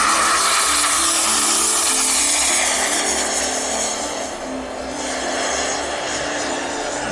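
A remote-control F-16 jet model with a 65-inch wingspan, powered by a JetCat 140P turbine, roars loudly and continuously overhead at an airshow, its whine shifting slightly as it passes.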